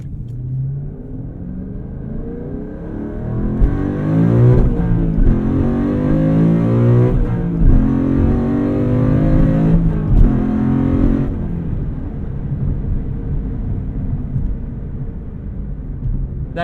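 Ford 2012 Mustang Boss 302 V8 accelerating hard, engine note climbing through a strong pull with a gear change, loud and close, then easing back to a lower rumble.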